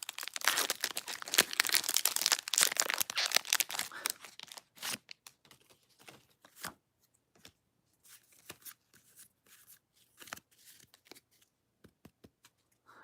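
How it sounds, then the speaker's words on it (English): Crinkling foil Pokemon card packs tear open, then cards flick and shuffle in quick bursts of dry papery taps, busy at first and sparser later. "ASMR unboxing of Pokemon cards"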